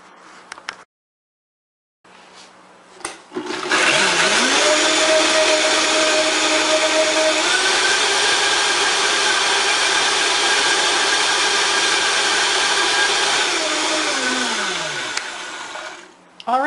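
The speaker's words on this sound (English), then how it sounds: "now I'm ready to blend that up" A kitchen blender whirs steadily for about twelve seconds as it purées ginger for a salad dressing, loud and close, spinning up with a rising whine and winding back down at the end.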